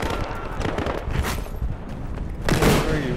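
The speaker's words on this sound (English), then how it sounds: "This is a semi-automatic sniper," Gunfire from a semi-automatic sniper rifle in a Battlefield Hardline team deathmatch, with sharp shots in a noisy battle and a louder blast near the end.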